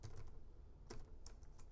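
Sparse, quiet keystrokes on a computer keyboard, a few light clicks spaced irregularly over a low steady room hum, close by and without talk.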